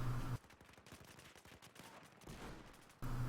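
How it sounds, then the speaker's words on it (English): Rapid gunfire in the video game Battlefield 4, sniper rifle in use, a continuous crackling burst of shots at moderate level that cuts off abruptly, with no talk over it. "Yes, sniper rifle. Pull it out. Start shooting."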